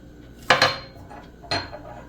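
Utensil mixing two eggs with sugar in a bowl, heard as a few sharp, close clinks against the bowl: a quick double knock, then a single knock a second later.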